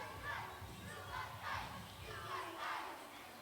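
A large crowd of spectators chants in rhythmic swells at a recurve cadet archery final of the World Archery Youth Championships, the loud, continuous voices rising and falling in regular waves throughout.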